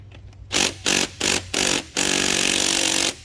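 A power tool on the top engine mount bolts of a 2004 Mazda 6i whirs loudly in four short bursts, then runs in one longer steady burst, close up with no talk.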